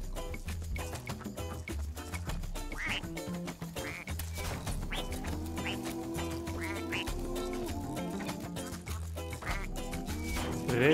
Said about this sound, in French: Rayman en canard, on aura tout vu.